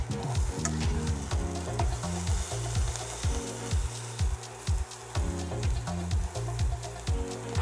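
Onion frying in oil in a pan gives a steady, close sizzle, broken by regular scraping strokes of stirring that repeat in a steady rhythm.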